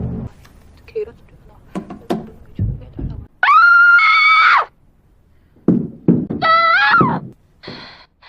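A voice recording on a phone carries two long, piercing screams among thumps and knocks, the screams loud and sustained against near silence.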